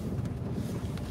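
Strong wind on the Norfolk Broads near a boat yard and staithe buffets the microphone with a constant low rumble, steady and close throughout the short stretch.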